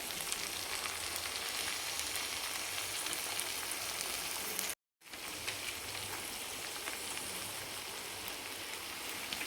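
Amaranth greens and dal fry in a kadhai with a soft, even hiss and crackle, fairly quiet and continuous apart from a brief dropout midway, with no talking.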